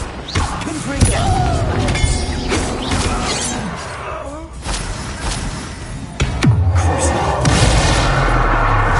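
A Confringo blasting curse goes off in Hogwarts Legacy, a loud crashing, shattering blast with a deep boom, amid ongoing combat noise and voices.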